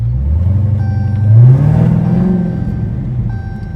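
Dodge Hellcat with a 707 hp V8 revving close by, a deep rumbling idle climbing into a loud surge around the midpoint before settling back to a steady throaty burble.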